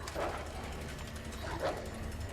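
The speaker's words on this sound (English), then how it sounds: "we're going to get introduced to probably one of the worst enemies in the entire game, which is dogs" Dogs bark in Resident Evil 2, two short yelps about a second and a half apart, fairly faint over a low game-ambience hum.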